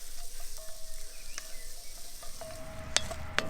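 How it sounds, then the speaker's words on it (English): Onions and red pepper sizzle in a pan cooked outdoors by a narrowboat, a steady crackling hiss close by, broken by occasional sharp spits and faint stirring scrapes near the end. "so we're sweating off the onions and the red pepper"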